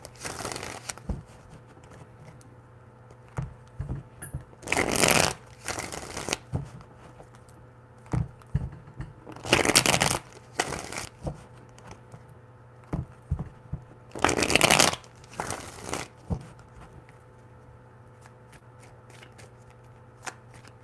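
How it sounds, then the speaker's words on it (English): Tarot cards are shuffled in three distinct bursts spaced a few seconds apart, each a quick riffling flutter, with light handling clicks and taps in the quiet between them. "Three shuffles."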